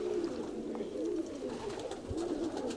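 Soft repeated cooing of Kozani racing pigeons near the loft, several rolling coos at an even pace over a steady outdoor background.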